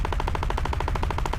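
Aircraft cannons in War Thunder Mobile fire a fast, steady stream of evenly spaced shots, loud and continuous with no pauses.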